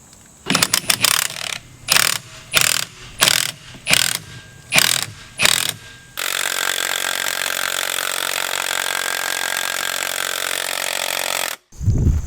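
An impact or ratchet power tool works on four front-end mounting bolts during a steering rack replacement, firing eight short bursts in a steady rhythm before one long continuous run, loud and close with no talking.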